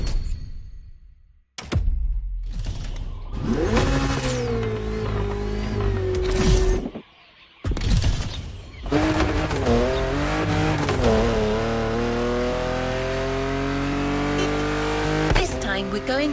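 A BMW Z car races in The Crew Motorfest, its engine revving up through gears with rising whines, brief gaps, and tire squeal, loud and close, with a voice speaking over parts of it.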